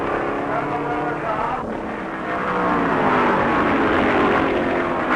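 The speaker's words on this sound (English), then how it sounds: "Finally, Paschal is back on the track, still in front, but his lead whittled to a single lap" Stock cars racing at the 1967 World 600 at Charlotte Motor Speedway: a loud, continuous engine roar with a pitch that wavers and rises slightly as cars pass, heard alone with no voices.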